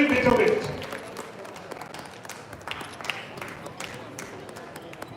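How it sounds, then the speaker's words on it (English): Audience clapping for inter-school quiz champions at a prize ceremony, a loud burst at the start that thins to scattered, steady applause, with talk over it. "Please keep clapping. Louder please, everyone."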